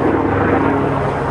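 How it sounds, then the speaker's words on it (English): A helicopter passes overhead near a filming location, a loud, steady broadband rotor and engine roar that fills the whole moment without any voices. "I guess I'm gonna let that sound go by. It's a helicopter."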